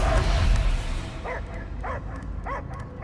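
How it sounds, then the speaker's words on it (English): Dog barking in the Guardians of the Galaxy video game: about four separate barks spaced roughly half a second apart, clear over a dense, rumbling game soundscape. "I hear only barking."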